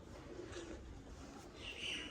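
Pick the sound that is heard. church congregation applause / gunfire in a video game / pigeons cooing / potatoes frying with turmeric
pigeons cooing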